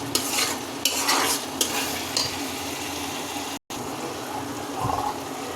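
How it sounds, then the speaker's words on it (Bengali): Spiced duck meat sizzles and hisses steadily in a pan while being stirred with water added to the masala, with scraping strokes and wet bubbling close by and a brief dropout near the middle. "পানি দিয়ে মশলাটা ভালো করে কষিয়ে নিব"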